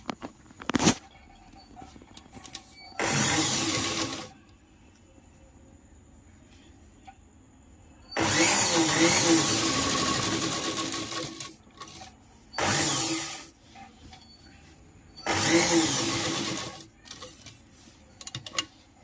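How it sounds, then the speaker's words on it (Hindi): A sewing machine stitching a petticoat runs in several loud bursts of a few seconds each, separated by quiet pauses and small clicks as the fabric is repositioned. "इसको हम अब अच्छे से बैठा के सिलेंगे।"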